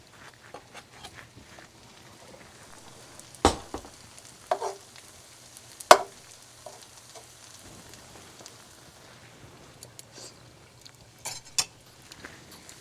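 Utensils scraping and tapping in a pan as a chicken roast with gravy is stirred, with a low sizzle running underneath and scattered clinks, two sharper knocks standing out in the middle.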